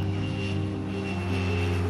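A Pilatus PC-7 propeller trainer on the runway at Locarno begins its takeoff, with a loud, steady droning engine and a propeller buzz filling the whole stretch and no talking.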